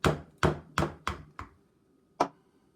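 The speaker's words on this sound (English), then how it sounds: "And here we've got the hammer, and what you need to do is just kind of gently tap" A hammer gently tapping around the joint of a plaster mold to separate it: five quick, fairly loud knocks in a row, then a pause and one final tap.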